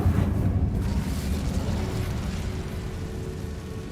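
Fire spell cast in Hogwarts Legacy, a deep rumbling whoosh of flame that swells at the start and slowly fades into a low, sustained roar.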